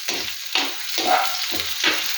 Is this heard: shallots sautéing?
yes